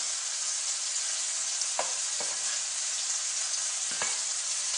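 Shrimp frying in a pan, a steady dense sizzle throughout with a few soft clicks as pieces are moved or turned individually.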